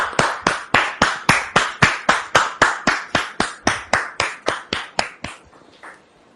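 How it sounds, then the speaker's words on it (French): A studio audience on a TV talk-show set claps in unison to welcome a guest, loud close beats in a steady rhythm of about three per second that break up and fade near the end. "Merci de la recevoir sous vos applaudissements maintenant."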